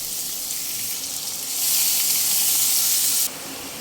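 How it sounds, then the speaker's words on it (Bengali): Whole cumin seeds and finely chopped onion hitting hot oil over a medium flame: a bright, even sizzle that swells louder midway, then drops back, close and steady with no talk. "মিডিয়াম ফ্লেমে পেঁয়াজগুলো একটু ভেজে নিয়েই দিয়ে দেবো"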